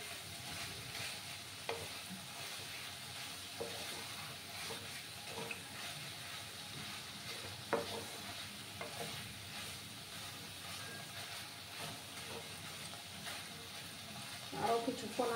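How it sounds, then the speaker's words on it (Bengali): Cashews and raisins frying in a pan, stirred steadily with a low continuous sizzle and occasional scraping clacks of the utensil against the pan, at moderate distance throughout. "আরও কিছুক্ষণ আমি এটাকে নাড়াচাড়া করে দেব"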